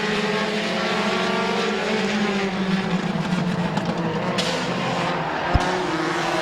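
Race cars roar around the oval at Midvale Speedway, a loud dense engine drone with rising and falling pitch as cars pass close by, plus a sharp knock near the end.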